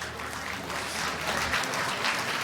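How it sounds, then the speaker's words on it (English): An audience gives a round of applause for a guest at a live event, steady, broad clapping that fills the space for a couple of seconds with no voices over it. "a round of applause for Darren."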